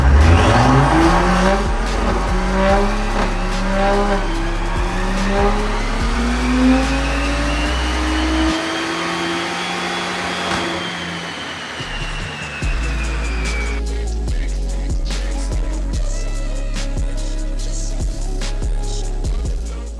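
A BMW X5 with an N55 engine roars through a full dyno pull, revs climbing loud and sustained to the top, then dropping and rising again in a second hard run.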